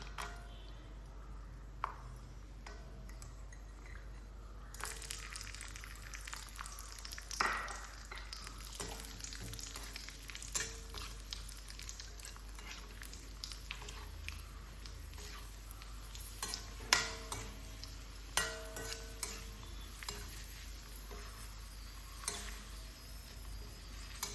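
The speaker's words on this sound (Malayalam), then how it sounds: "എണ്ണയിൽ നിന്ന് സവാള വറുത്ത് പോയതിന് ശേഷം നമുക്ക് അണ്ടിപ്പരിപ്പും മുന്തിരിയും ഒന്ന് വറുത്തിട്ട് എടുക്കാം" Cashews and raisins fry in oil left over from frying onions, giving a soft, steady sizzle with occasional stirring scrapes and light clinks of a utensil against the pan.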